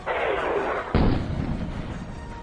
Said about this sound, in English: a mighty explosion rocked the air